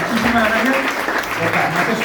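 Audience applause at an international tasting of Austrian and Rioja wines, a dense, steady clapping that runs throughout, mixed with voices.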